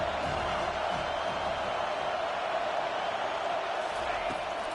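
Loud, continuous home crowd noise at a football game, a dense steady roar with no breaks, the broad wash of many voices filling the whole stretch.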